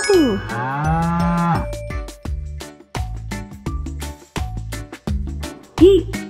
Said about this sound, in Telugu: ఆ అంటే ఆవు.